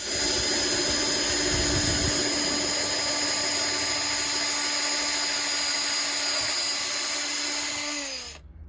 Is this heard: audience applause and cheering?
no